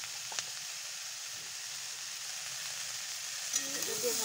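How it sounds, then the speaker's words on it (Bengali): A lentil mixture seasoned with salt and turmeric fries in a pan with a quiet, continuous sizzling hiss, broken by a couple of light taps from stirring. "এটা দিয়ে ভালো করে নাড়িয়ে নেব।"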